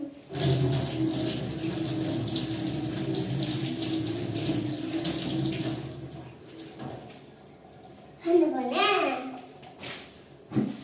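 Tap water runs into a sink while strawberries are washed, a continuous splashing rush for about six seconds with a voice chattering over it, then fading to quieter talk.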